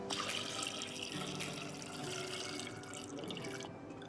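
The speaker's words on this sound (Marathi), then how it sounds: "आता आपल्याला दुसरं पाणी घालायचं आहे याच्यामध्ये" Water pours steadily into a pot of chickpeas for chole, with a continuous rushing, splashing sound, close and fairly even throughout.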